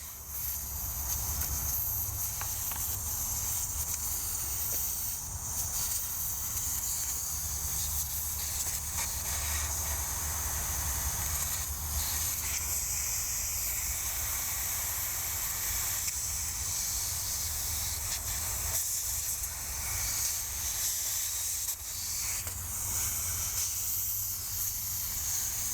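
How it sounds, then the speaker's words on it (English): Air hisses steadily out of a small hatchback's tyre valve with the core removed, a continuous bright, sustained rush at close range that carries on for nearly half a minute without pause. "You take your core remover of your valve, insert it, you let the air out,"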